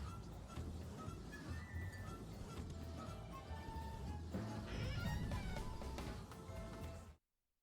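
A cat meows in a scene from the Cat in the Hat movie, with drawn-out cries over a busy background that includes light glassy clinks, heard fairly faintly before the sound cuts off abruptly near the end.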